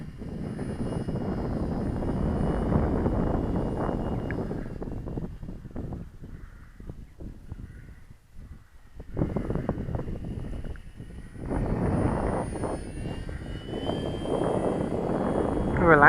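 A small propeller engine at about half throttle drones steadily as a model plane flies, fading lower for a few seconds in the middle, then returning louder with wind buffeting.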